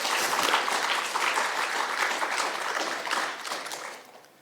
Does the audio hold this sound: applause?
yes